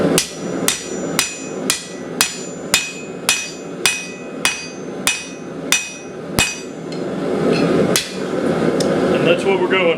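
A blacksmith forging steel strikes it on an anvil in a run of about a dozen sharp, evenly spaced ringing hammer blows, close and loud, then a few heavier irregular strikes and clatter near the end.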